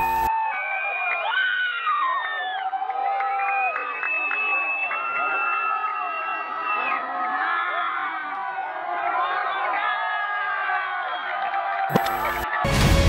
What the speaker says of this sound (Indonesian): Mereka berteriak Corona, Corona saat balon itu terbang ke langit.